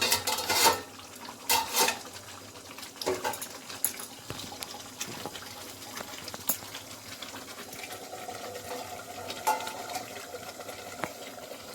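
A lid goes onto a cooking pot of simmering chicken curry, with metallic clinks and clatters of pot and utensils over a soft bubbling and sizzle, louder knocks at the start and lighter taps after.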